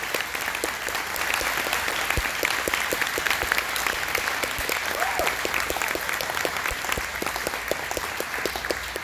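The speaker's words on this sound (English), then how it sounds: "Let's give them a round of applause." Sustained audience applause at a high school all-county music concert, many hands clapping in a dense, even patter that stays loud and unbroken throughout.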